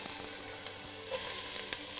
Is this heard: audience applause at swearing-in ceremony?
no